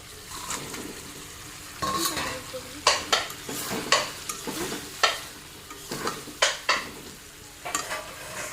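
Fried catla fish pieces are stirred in a pan of hot mustard oil, with a soft sizzle beneath repeated sharp scrapes and clinks of a utensil against the pan at irregular intervals, close and without voices.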